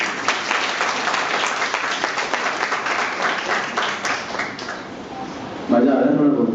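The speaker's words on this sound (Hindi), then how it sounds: "तो सचिन के लिए प्लीज ताली बजाइए।" An audience in a lecture hall applauds for Sachin with a sustained burst of clapping that fades toward the end as a voice starts speaking.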